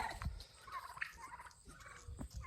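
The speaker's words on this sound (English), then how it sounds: "We have the turkeys. They're noisy and they're out." Turkeys on a farm gobble in quick rattling bursts, several calls overlapping at moderate distance, with brief pauses between outbursts.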